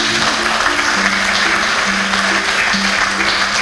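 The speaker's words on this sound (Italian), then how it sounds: "un applauso ancora" An audience applauds at a library event in Florence's Biblioteca delle Oblate, a dense, even patter of many hands with a sustained musical tone faintly underneath.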